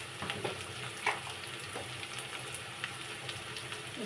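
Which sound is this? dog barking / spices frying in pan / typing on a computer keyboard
spices frying in pan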